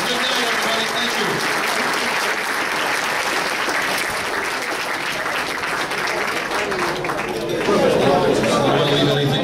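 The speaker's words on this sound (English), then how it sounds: "Big round of applause for everybody." An audience at a New York State football hall of fame ceremony applauds in a steady, dense wash of clapping, with chatter underneath and a louder swell near the end.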